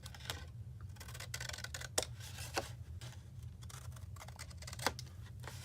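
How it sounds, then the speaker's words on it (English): Scissors cut cardstock along a score line, making a series of small, close, crisp snips and clicks spread irregularly over several seconds above a low steady hum. "Rotate the cardstock round, cut up the score line,"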